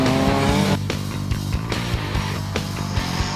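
A turbocharged 2-litre race car at a road racing championship heading into a corner, its engine droning loud and close while a rhythmic series of gear changes or revving pulses repeats through the turn.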